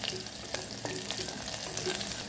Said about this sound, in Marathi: हे खडे मसाले याच्यात टाकूया। परतून घेऊया।